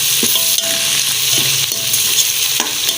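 Chicken with onions and garlic-ginger paste fries in a pot over a high flame, a steady loud sizzle broken by the regular scrape and clink of a stirring spoon.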